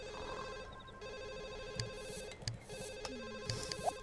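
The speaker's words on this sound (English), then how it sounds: "Answer the phone." A telephone rings in The Sims 1 life-simulation game, sounding as a repeated electronic trill over a steady backdrop of game music and ambient sounds, with no one talking.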